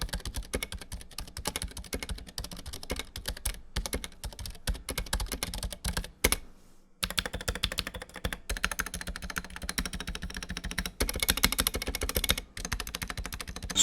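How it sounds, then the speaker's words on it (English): Steady, fast typing on a mechanical keyboard with silent red switches and SA-profile keycaps, soft muted clacks in continuous bursts with one short pause, close and fairly quiet. "What's interesting to me is that the SA profile actually changes the sound of the board quite a bit,"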